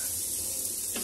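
Onions hit a hot frying pan and sizzle loudly and steadily, with a broad hissing crackle that fills the short moment.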